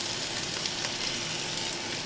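Seasoned short ribs searing in a pan, browned in batches for braising, give a loud, steady, dense sizzle that runs unbroken throughout with no talking.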